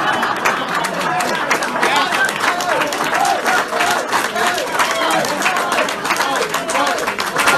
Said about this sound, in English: First off is the audience clapping, right?